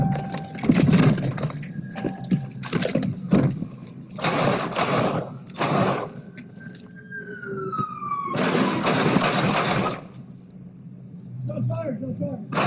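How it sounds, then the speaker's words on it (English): Several loud, sharp gunshot bangs go off during a police confrontation, mixed with shouted voices and a wailing siren in the background. "Shots fired, shots fired."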